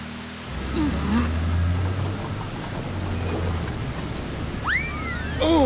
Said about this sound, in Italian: Oh, inizia a piovere!